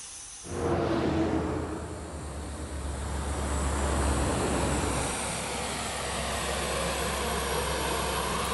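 Crop-spraying airplane flying low over banana plantations: a loud engine drone rises quickly from near silence and holds steady, a broad continuous roar with no voices.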